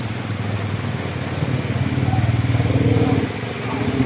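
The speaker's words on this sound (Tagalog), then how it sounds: "Ito yung motor oh." Motorcycle pushing through floodwater on a flooded street, its engine putting out a steady mid-pitched drone with a rhythmic churning pulse, heard close alongside background voices.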